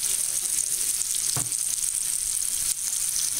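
Onion sautés in a pan with Creole seasoning, giving a bright continuous sizzle close by, with a couple of brief stirring scrapes.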